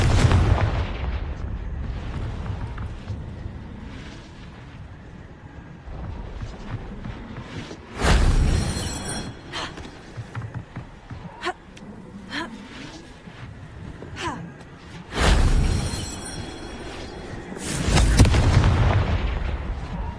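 Confringo fire spells detonate in Hogwarts Legacy, three loud booming blasts spread across the span with quieter rumbles and crackles between them.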